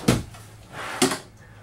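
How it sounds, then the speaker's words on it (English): Two short sliding thuds of a drawer moving on roller bearing glides in a 2021 Venture Sonic travel trailer, one near the start and another about a second later, in a quiet room. "Roller bearing drawer glides."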